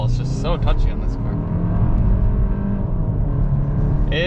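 A 2021 Lexus LS 500 F Sport pulls away in sport manual mode with a touchy throttle, its engine droning steadily from inside the cabin as a person talks over it.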